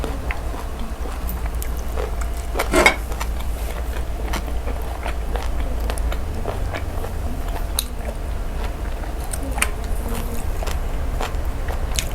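Someone eats crunchy, chewy pickled pork skin with rice by hand, biting straight into it. Crisp bites and wet chewing sound up close and repeat throughout, with no speech.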